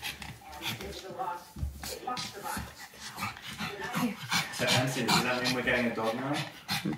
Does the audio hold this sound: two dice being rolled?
no